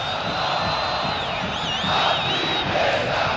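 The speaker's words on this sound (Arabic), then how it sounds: "هنا الجماهير الزمالكاويه" Zamalek supporters roar in a packed football stadium during an African Champions League match, a steady, loud wall of crowd noise with a shrill whistle-like tone weaving through it.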